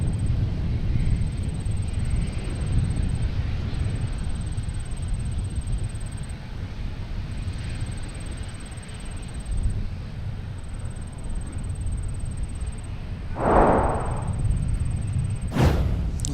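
A Delta A350 airliner arriving at Minneapolis St. Paul airport, a steady broad engine roar and rumble held for a long stretch, with a couple of brief whooshes and thumps near the end.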